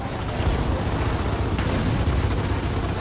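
Gunfire in the Gears of War 4 game, a dense, continuous roar of shots and blasts filling the whole moment, loud and close with no clear gaps between rounds.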